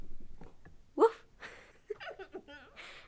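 A voice imitates a dog's bark with a single short, breathy 'wouf' burst near the middle, surrounded by quiet murmuring room sound.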